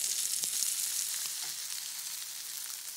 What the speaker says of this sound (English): You want to fry the patties about 4 to 5 minutes on each side until they've got a golden crust.